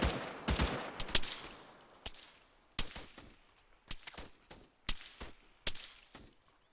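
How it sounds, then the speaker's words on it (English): Several bursts of heavy machine-gun fire from a squad engagement, sharp cracks spaced unevenly across the stretch, moderately distant and ringing out against a quiet background. "they're making some pretty heavy machine gun fire right now"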